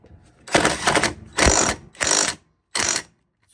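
A power drill retightens a part on a Maytag washer, giving four short bursts of whirring, ratcheting mechanical noise separated by brief pauses, close and fairly loud.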